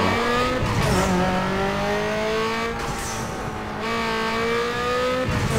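Car engine in Need for Speed 2, drifting and power sliding on a road with a nitro boost: a steady revving tone that bends up and down through the slide, with tire squeal and an abrupt surge near the end.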